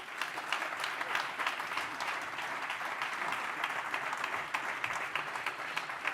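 Sustained applause from an audience at a Basque rugby respect forum, dense and steady for the whole stretch, with a faint murmur of the crowd underneath and no speech over it.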